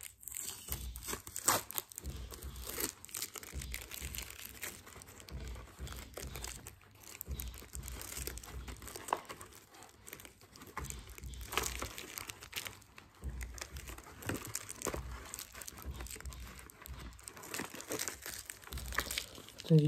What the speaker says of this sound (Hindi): माइक को उतारने के लिए मैंने यहाँ पे टेप करी हुई थी, तो इस टेप को भी हम उतार देंगे।